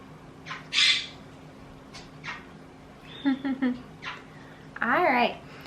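A pet cockatiel gives several short squawks and chirps indoors, sharp and close, interspersed between quiet stretches, with a brief rising whistle near the end.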